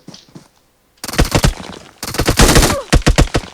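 Video game gunfire: close, loud rapid bursts of automatic shots after a brief quiet start, with stuttering volleys continuing to the end.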